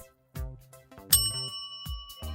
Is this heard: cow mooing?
no